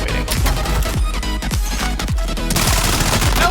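Rapid automatic fire from a CR-56 AMAX rifle in a Call of Duty match, loud and continuous for a few seconds, a dense run of closely spaced shots without pause.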